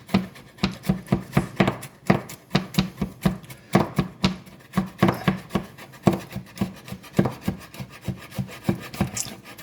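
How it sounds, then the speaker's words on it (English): A kitchen knife minces food on a cutting board with rapid, steady rhythmic chops, close and crisp, continuing without pause. "and then I'm rotating my knife and my hands to go back and give it a good mince"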